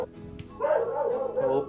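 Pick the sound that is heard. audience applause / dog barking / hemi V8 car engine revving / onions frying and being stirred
dog barking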